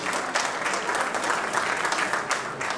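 An audience at a textile and poncho craft exhibition applauds absent artisan women, a steady wash of many hands clapping together for a few seconds.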